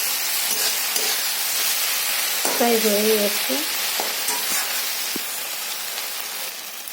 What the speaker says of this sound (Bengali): যতক্ষণ মশলাটায় তেল না ছাড়বে ততক্ষণ একটু ভাজবো